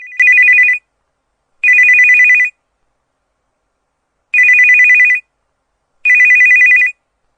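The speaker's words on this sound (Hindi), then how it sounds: "क्या आपने महसूस किया कि तकिए के नीचे फोन की आवाज बहुत" A mobile phone plays its ringtone in four loud, evenly spaced bursts of a repeating electronic tone, with silence between rings and no voices.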